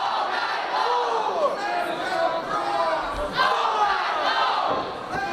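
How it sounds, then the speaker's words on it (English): A split wrestling crowd at a Wrestlecade event roars and chants continuously in a large arena, loud and sustained with swelling waves of cheering and mixed yells, no clear single voice standing out. "it sounds like this crowd is indeed split even 50-50 right down the middle"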